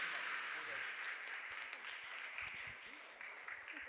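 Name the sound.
audience applauding the priests at a church service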